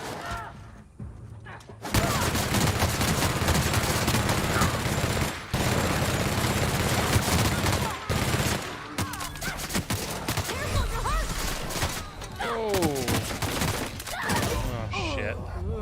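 Automatic LMG gunfire in The Outer Worlds, long loud rattling bursts broken by short pauses, mixed with impacts and other combat noise while a voice talks over the action.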